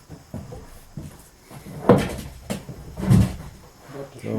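Wooden door of an old mill office opened or closed, with a couple of knocking thumps and creaks; a person talks around it.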